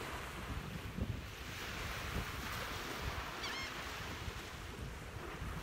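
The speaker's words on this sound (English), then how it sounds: "here on the beach." Ocean waves wash steadily onto a beach, a continuous broad surf roar mixed with heavy wind buffeting the microphone and no voices.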